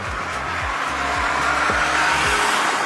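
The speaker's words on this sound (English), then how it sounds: "you'll also hear a whine from the engine bay." Tata Punch three-cylinder car engine revving hard past about 4000 rpm, with repeated rising and falling pitch sweeps as it climbs through the gears and a thin whine from the engine bay, loud and close throughout.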